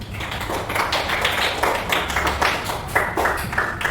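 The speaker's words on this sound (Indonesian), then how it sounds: "Ya, tepuk tangan untuk kita ya." Children in a sixth-grade primary school classroom clap together, a loose, uneven patter of hand claps close by, with a faint murmur of young voices in the background.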